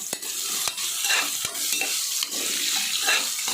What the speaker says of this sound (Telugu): చక్కగా ఉల్లిపాయ బాగా వేగనిచ్చి చూడండి